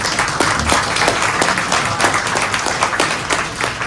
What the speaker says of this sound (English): One more round of applause, please, for Dr. McGrath.